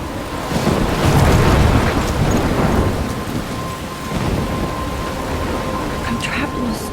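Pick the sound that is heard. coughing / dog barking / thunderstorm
thunderstorm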